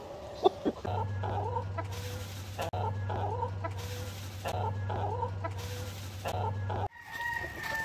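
Shamo game hens on a farm cluck and crow in repeated bursts, close by, over a steady low hum from a motor or fan that drops out near the end.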